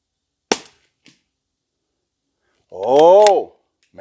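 A single sharp, close report from a Ruger American rifle in 300 Blackout firing subsonic 200-grain rounds, a short crack with a brief tail, followed by a voice speaking.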